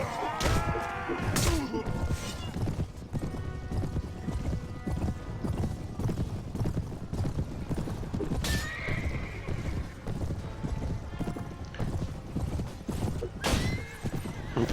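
Horses gallop with rapid clip-clop hoofbeats in the Mount & Blade Warband game, broken by several loud neighs and occasional thuds and crashes of combat, steady and busy throughout.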